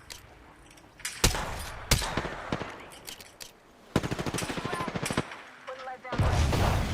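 Gunfire in the Apex Legends game, sharp separate shots followed by a rapid automatic burst and a final heavy blast, close and loud against quieter gaps.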